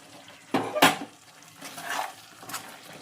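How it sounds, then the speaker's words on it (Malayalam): A spoon stirs fish pickle in a pan, with two sharp metallic knocks early on followed by softer scraping and stirring. No voices are heard. "ഇളക്കി കൊടുക്കും"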